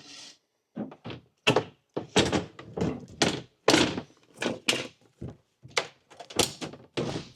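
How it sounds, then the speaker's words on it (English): Interior panels going back onto the walls of a Mercedes Sprinter van conversion: a close, irregular run of hollow thunks, knocks and clicks separated by short pauses, with no talking. "Let's put all the panels back on now."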